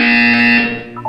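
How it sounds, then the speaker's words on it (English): Loud buzzer tone in a Portal 2 game test chamber, one sustained electronic blare with strong steady harmonics that cuts off sharply near the end, no voices. "You will hear a buzzer."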